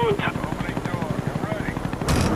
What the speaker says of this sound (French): Donc je lance mon artilleur d'hélico